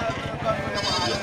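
Sheep bleat amid a busy outdoor livestock market crowd, with people talking nearby over a steady background murmur.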